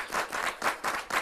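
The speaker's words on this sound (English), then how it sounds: "when you applaud long enough, it does just start to coalesce into timed clapping" Audience clapping in slow, regular bursts, about five evenly spaced swells, as applause settles into timed clapping.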